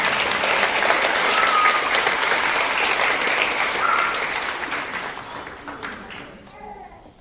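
A school crowd applauds at a fifth-grade promotion ceremony, broad sustained clapping filling the room and slowly tapering off toward the end, with faint voices underneath.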